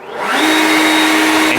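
A Ryobi 36V cordless vacuum cleaner switching on and spinning up within a fraction of a second to a steady, loud whirring whine, close by and alone.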